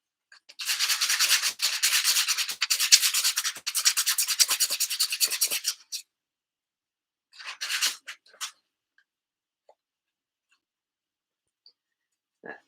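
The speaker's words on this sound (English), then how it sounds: "It's going to be a noisy day of sanding today." Rapid, rhythmic scraping of sanding for several seconds, then silence, a short second burst of strokes, and a few faint taps.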